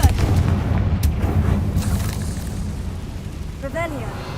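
A Confringo explosion spell in the Hogwarts Legacy video game, a loud booming blast rolling into a dense rumbling crackle that tapers off, with a voice over it and a brief chiming effect near the end.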